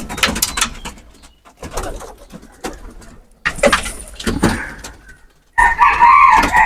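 Pigeons coo at a home loft during breeding season, with varied calls, some louder bursts, and a rooster crowing loudly near the end.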